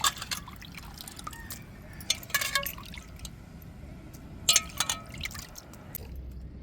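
Water splashes and trickles in short bursts as prawns are swished and rinsed, with drips and sloshing at close range and no talking.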